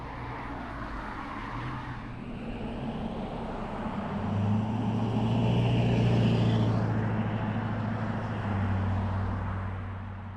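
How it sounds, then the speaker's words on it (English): Steady road and engine rumble from inside a van driving on busy roads in the eastern countryside, swelling louder midway as traffic passes close by, with no talk. "Lot of traffic on these roads back east"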